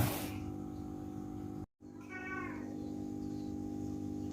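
Cats in heat meow against a steady low background hum, with a loud meow near the start, a brief dropout, then a drawn-out wavering call in the middle, faint further cries following.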